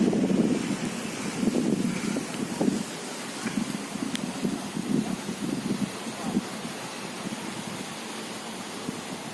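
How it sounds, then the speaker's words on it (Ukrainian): Warm, clear sea beside a hotel at Beldibi, Turkey gently washes ashore in soft, uneven swells, mixed with wind buffeting the microphone and fading toward the end. "Море просто шепче. Чисте, прозрачне, тепле."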